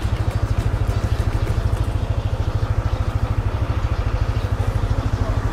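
Motorcycles idle in the parking area at Tanah Lot temple in Bali, a close, rapid low putter with a steady pulsing rhythm and mechanical clatter that runs without a break.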